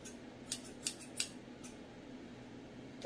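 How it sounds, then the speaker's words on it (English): Scissors snip close by, three or four quick crisp cuts through hair in a row, then quiet room tone. "she uses scissors on my hair"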